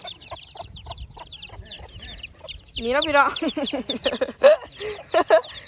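Chickens clucking close by in a farm setting, a string of short repeated clucks that grows busier and louder midway, with a person talking over and between them.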